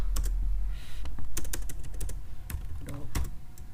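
Typing on a computer keyboard while writing basic HTML code: a run of crisp, close key clicks in irregular bursts with short pauses, no speech over it.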